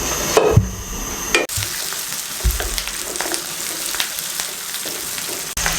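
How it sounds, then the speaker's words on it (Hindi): Chopped onions hit about 20 to 25 grams of hot oil for a Hyderabadi stuffed eggplant masala and fry with a steady, close hiss, broken by a few sharp utensil knocks early on. "तकरीबन हम थोड़ा सा ऑयल डालने लगे हैं, 20 से 25 ग्राम ऑयल शामिल कर दें। इसमें प्याज शामिल कर दें"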